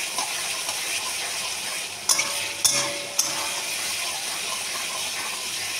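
Chicken pieces fry in oil while being stirred, a steady close sizzle broken by three sharp metallic clinks of a spoon against the pan.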